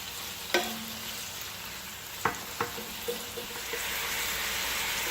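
Steak frying in a pan for steak and peppers, a steady soft sizzle throughout with a few sharp clinks of a utensil stirring against the pan, no talking.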